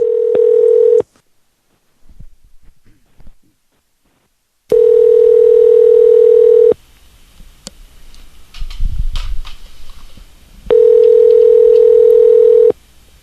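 Telephone ringback tones during a call-in to a live radio show, loud and steady, each lasting a couple of seconds with long gaps between. Faint line noise and muffled thumps fill the pauses.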